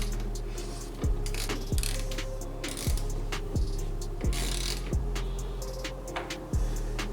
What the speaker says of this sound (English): Basically just a small ratchet, the socket, and then the little tip of the screwdriver.